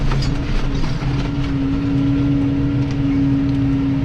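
A steady, loud tractor engine drone with a sustained low hum and rumble, running continuously throughout like heavy machinery idling or working nearby.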